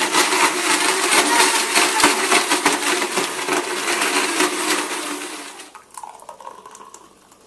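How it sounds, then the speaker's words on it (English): Blender whirring on high as it purees a smoothie, a loud dense churning roar for about six seconds before it cuts off, then fainter clinks and liquid settling. "Now blend this on high for about 30 to 45 seconds"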